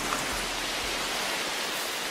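Steady rain falling in a tropical forest, a dense, even hiss of drops on leaves and the forest floor that carries on without a break and sounds close and enveloping, with no voices.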